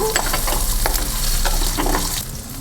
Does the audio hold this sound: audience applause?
no